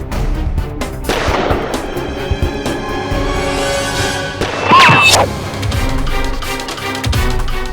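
Gunshots ring out in a Hindi TV courtroom-crime drama scene, several sharp loud cracks and thuds spread across a few seconds over a tense musical score.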